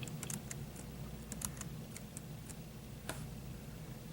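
Quiet, irregular clicks of keys being pressed on a MiniSuit BluBoard wireless keyboard, scattered taps over a low background hum with no speech.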